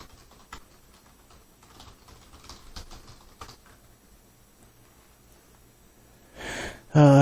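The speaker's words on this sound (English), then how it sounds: "Just typing out a response." Faint, sparse clicks of typing on a computer keyboard at a PC, a few scattered keystrokes over quiet background, ending in a short louder burst of noise and a tonal sound.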